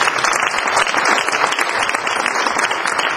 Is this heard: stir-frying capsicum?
no